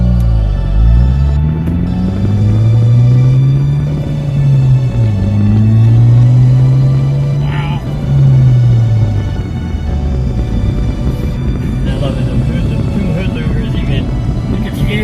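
A 2015 Ford Focus ST hatchback accelerating hard, its intake and engine droning loudly and rising in pitch through several gear pulls, with people talking inside the car.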